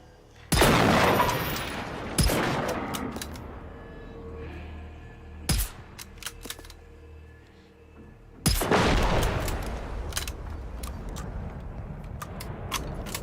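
Gunfire from the Generation Zero video game, several loud sharp shots with long ringing decay, spaced irregularly with a burst near the start and another near the end, plus scattered smaller cracks between.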